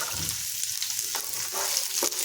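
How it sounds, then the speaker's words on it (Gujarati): Chopped onion and capsicum sauté in hot oil for dhaba-style malai paneer, a close, steady sizzle with a few sharp stirring scrapes toward the end. "હવે આપણે અહીંયા ડુંગળી નાખીશું ને કેપ્સિકમ નાખીશું અને આપણે બે મિનિટ માટે સાતળી લઈશું"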